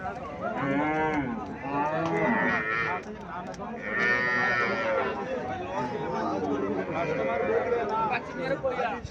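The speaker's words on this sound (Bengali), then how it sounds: "এখানে আরেকটা গাভী দেখা যাচ্ছে।" An improved Haryana breed dairy cow with a young calf at a cattle sale moos in long, loud, drawn-out calls nearby, repeated several times, with people talking over and between the lows.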